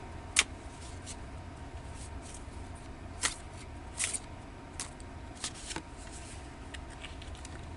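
Tarot cards are shuffled and drawn in a quiet room, with soft scattered slaps and flicks of the cards, a few sharper snaps standing out against a low hush.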